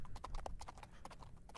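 A horse's hooves clip-clop in a steady, fairly close rhythm of sharp knocks, alone with no talk, as part of a cowboy role-play scene.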